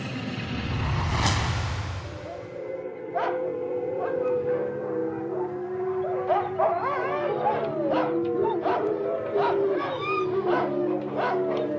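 A dog, presented as a ghost dog, gives a series of wavering, drawn-out howls and whimpering whines, close and clear after a brief low rumbling burst at the start.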